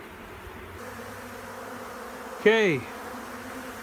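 A honey bee colony hums steadily during a cut-out from a structure, with a louder, rising-and-falling buzz as a single bee passes close by midway, and a brief spoken word over the drone.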